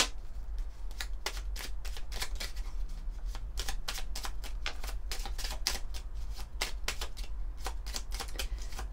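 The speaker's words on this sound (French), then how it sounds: "On va prendre quelques cartes du petit oracle des guidances étoilées." Small oracle cards are shuffled by hand in a quick run of crisp riffling slaps, close and fairly soft over a low steady hum, with no talking.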